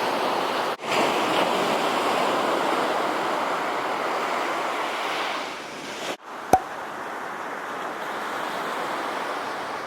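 Ocean surf rolls steadily onto a beach in Busan, a continuous broad wash of breaking waves with wind buffeting the microphone and a brief sharp knock near the end.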